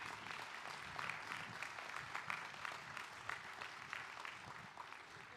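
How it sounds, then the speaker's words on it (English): A commencement audience for health and human services graduates claps in a broad, sustained round of applause, dense and even throughout with no speech on top. "Let's give everyone a round of applause."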